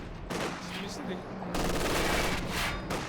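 Machine gun bursts from the real-time strategy game Company of Heroes 2 rattle in dense, overlapping volleys during a chaotic battle, fairly loud and continuous with a brief lull, alongside a commentator's voice.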